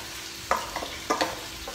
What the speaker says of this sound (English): I'm going to sear my chops.